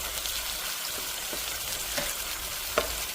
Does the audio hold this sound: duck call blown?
no